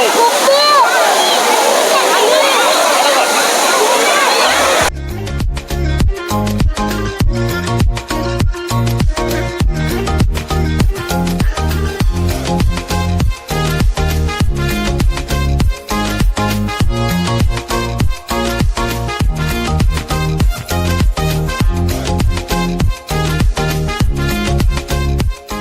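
Water flows over the stepped rocks of Srinivasa Sagara waterfall in Chikkaballapura, a loud, rushing roar for the first five seconds before it cuts off and rhythmic music with a steady beat takes over.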